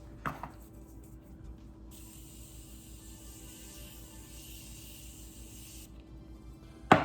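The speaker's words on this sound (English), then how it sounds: "Going to just set this all in place with the Morphe Continuous Setting Mist" A single long hiss of Morphe Continuous Setting Mist sprayed onto a made-up face, close and steady for about four seconds, bracketed by quiet handling clicks at the start and end.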